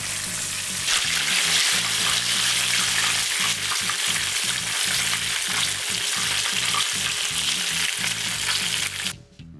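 Chicken wings for Nagoya-style tebasaki deep-fry in hot oil, giving a dense, continuous crackling sizzle that runs steadily for several seconds up close before stopping abruptly.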